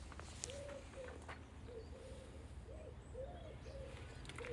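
A bird in an aviary gives a series of soft, repeated cooing calls, faint and somewhat distant over low background noise, with a few brief higher chirps scattered among them.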